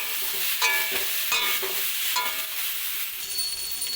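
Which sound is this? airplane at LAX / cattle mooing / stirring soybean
stirring soybean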